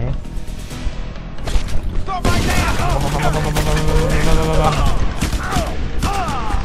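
Bursts of rapid gunfire and booms in the video game Just Cause 2, loud and continuous, with voices talking over the shooting.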